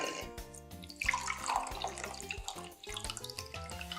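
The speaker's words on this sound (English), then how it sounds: "I could just empty the liquid out into here." Raisin soaking liquid poured out of a bowl into a cookie mix, a close splashing trickle of water running under music that plays throughout.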